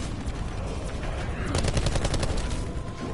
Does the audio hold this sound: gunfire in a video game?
yes